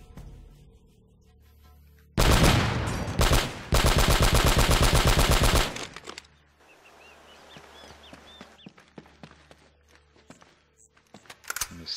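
Loud bursts of gunfire from Uncharted: Drake's Fortune, with a couple of sharp shots followed by a long, dense volley, then quieter jungle ambience with rustling, footsteps and scattered birds.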